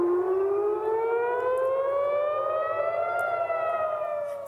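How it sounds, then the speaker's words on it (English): Air raid sirens sound across Israel, a loud wailing civil defense tone rising slowly in pitch and holding steady for several seconds, alone with no voices. "air raid sirens sounded across Israel, including in Jerusalem"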